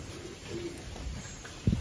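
Pigeons cooing nearby, soft low throaty coos under faint background hum, ending with a louder close coo.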